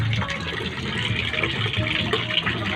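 Water pours and gushes steadily into a container, a continuous splashing fill heard at moderate level throughout with no talking.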